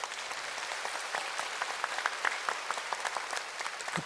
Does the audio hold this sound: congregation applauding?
yes